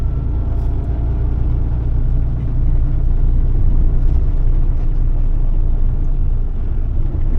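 A car drives along the road, and a steady, loud low engine and road rumble fills the cabin throughout with no break.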